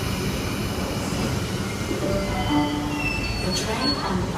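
An S set Sydney Trains service pulls out of Circular Quay station during the afternoon peak, a steady rumble of rolling stock with a brief wheel squeal partway through, close and continuous.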